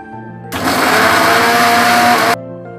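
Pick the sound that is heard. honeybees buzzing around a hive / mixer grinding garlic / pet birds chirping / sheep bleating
mixer grinding garlic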